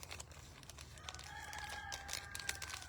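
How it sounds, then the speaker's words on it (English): Chickens clucking and a rooster crowing faintly in the background, soft and somewhat distant against a low steady hum. "The chickens say hello, too."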